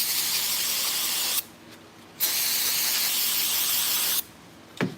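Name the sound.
spraying carb cleaner onto an air filter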